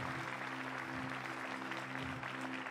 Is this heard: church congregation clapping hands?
yes